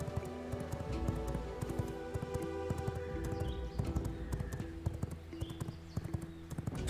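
A horse gallops in the video game V Rising, its rapid, loud hoofbeats pounding in a quick repeating rhythm over layered game music throughout.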